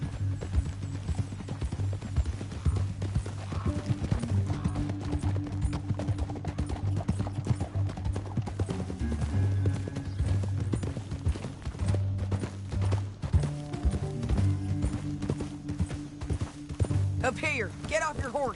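Horse hooves gallop in the video game Red Dead Redemption 2, a continuous rhythmic clip-clop running throughout beneath talking characters and background game sound.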